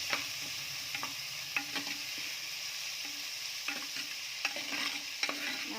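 Steady sizzling of food frying in a pan, with intermittent scraping and clinks of a spoon stirring.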